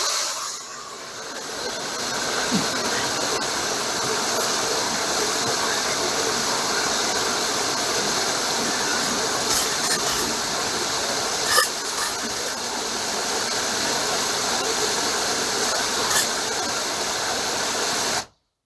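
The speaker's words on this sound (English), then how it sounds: "And then I'm going to add some from the garden hose." Water from a garden hose gushes steadily into a bucket, a continuous hissing rush lasting several seconds with a few small clunks along the way.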